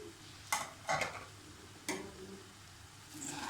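Restaurant-style Chinese rice is stirred in a pan with soy sauce, vinegar, black pepper and salt, giving a few sharp, close utensil scrapes and clinks with quiet pauses between them.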